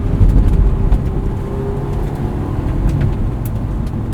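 Loud, low road and engine rumble fills a sports car cabin with the top up, with occasional light rattles and clicks over the steady drone.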